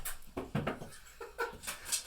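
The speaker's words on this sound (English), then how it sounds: "My dog's on here." A pet dog whimpers and whines close by in short, broken bursts with little yips and snuffly breaths spread across a couple of seconds.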